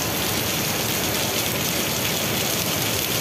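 Rain falls steadily on a Sinar Jaya bus, a dense, loud and even hiss of drops that does not let up, with no voices.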